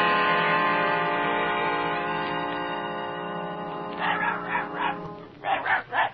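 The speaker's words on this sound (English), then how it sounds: "Look, it's Dorothy's dog." A dog barks in a quick series of sharp yaps near the end, following a long sustained musical chord that fades beneath it.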